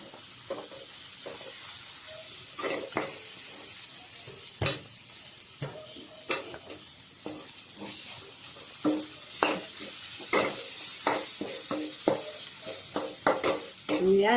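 Eggplant sisig sizzles softly in a pan while a utensil scrapes and stirs in irregular clacks and scrapes, close and fairly quiet.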